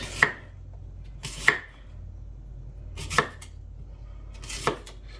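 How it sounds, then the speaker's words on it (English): A knife chops through apple on a cutting board, cutting big slices for a julienne of thin matchsticks. Four sharp, distinct knocks land about a second or more apart, fairly close and clear against a quiet background. "So we need to chop these into like matchsticks, so like kind of a julienne."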